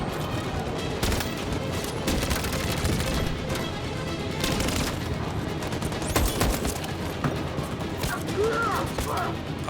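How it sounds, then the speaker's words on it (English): A grenade blast and sustained gunfire in the game Detroit: Become Human, loud and continuous, with sharp crashes and rattling shots piling up through a hectic firefight while voices speak over the din. "Oh, a grenade, okay."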